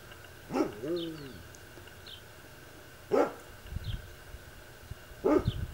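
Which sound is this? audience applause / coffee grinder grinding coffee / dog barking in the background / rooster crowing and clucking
dog barking in the background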